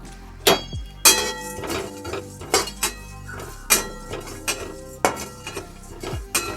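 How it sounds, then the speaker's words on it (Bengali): Whole spices dry-roasting in a metal kadai, marked by a dozen or so sharp metallic clanks and clinks of a spatula against the pan at uneven intervals, close and loud over a faint background. "এবার এই গোটা মশলাগুলো আমি এর মধ্যে ঢেলে দেবো আর সুন্দর করে একটু ভেজে নামিয়ে নেব"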